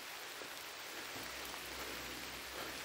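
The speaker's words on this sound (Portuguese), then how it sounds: "Já tá chovendo muito." Heavy rain falls on a dirt road through the woods, a dense, even hiss of steady downpour with no voices, recorded fairly quietly.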